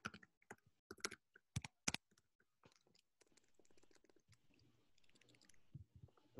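Quick bursts of clicking keystrokes on a computer keyboard while C++ code is typed, irregular taps in short clusters, close but fairly quiet, with soft, sparse key taps in between.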